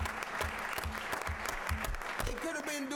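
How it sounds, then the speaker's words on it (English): Audience applause for a panel discussion on slavery, a dense wash of clapping that runs steadily for about three seconds, with a voice talking over it near the end. "I think we ought to give them a round of applause because they're here."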